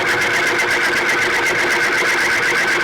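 A lubricant friction test machine runs under one weight, giving a loud, steady mechanical whir with a fast repetitive pulse and a tonal hum, close and uninterrupted.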